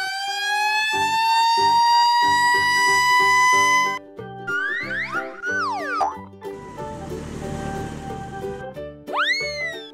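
Toy red fire truck siren effect: a loud rising electronic wail with bright harmonics, followed by cartoonish boing and sweeping whistle tones and a burst of noisy clatter, no talk.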